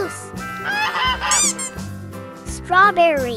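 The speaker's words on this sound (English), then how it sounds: "Goose." A goose honks in a string of loud, close calls that rise and fall, over steady background music.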